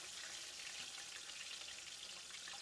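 Fish fried until crispy on both sides crackles in hot oil in a steady, dense, close sizzle that holds at an even level throughout, with no voices.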